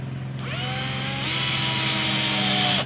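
A Bosch GSB 120 cordless impact drill drives a screw with a close, steady motor whine that rises in pitch partway through and then cuts off.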